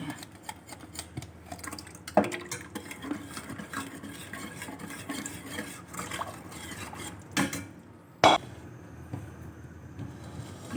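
A metal spoon stirs kadhi batter in a cooking pot, making steady scraping and soft clinking with a few sharper knocks against the rim, including one loud clank near the end.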